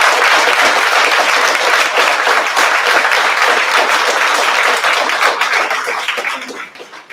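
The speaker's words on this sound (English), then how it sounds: "So let's give them a round of applause even though they're not able to be here." Audience at a solo fashion show applauds loudly and densely, close clapping holding steady before tapering off near the end.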